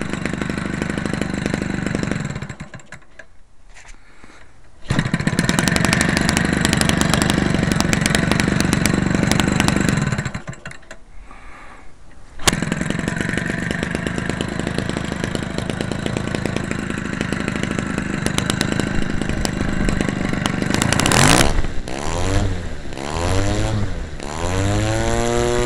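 A Homelite Textron 30cc Blue Flame engine converted for RC use runs loud and close, buzzing at high revs with abrupt drops to a lower idle and throttle blips, ending in a series of rising and falling revs.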